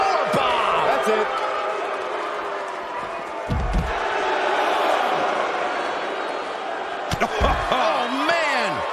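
A heavy powerbomb slam in WWE 2K19 lands with two deep thuds on the ring mat over a steady roar of arena crowd noise, while commentators talk throughout.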